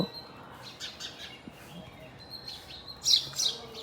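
Sparrows chirp outdoors in the morning, a few sharp, scattered tweets that are moderately distant, with a brighter cluster of calls near the end, over a low background hum.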